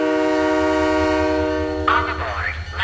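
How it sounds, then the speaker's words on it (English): A train in the video game Halo 3: ODST departs, a loud steady horn-like harmonic drone over a rhythmic low rumble, then a rising whine as it pulls away. "Last train. Now departing."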